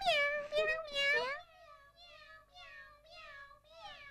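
In a Cantonese family drama, a human voice imitates a cat with a string of meows, several loud, close meows at first followed by a softer run of repeated meows.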